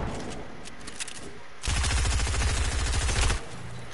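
Enemy gunfire in Fortnite: a loud, rapid automatic burst of shots lasting under two seconds, preceded by fainter scattered shots in the distance.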